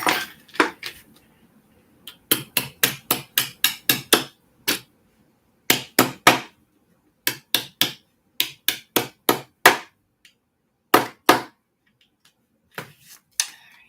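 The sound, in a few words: small hammer tapping metal prongs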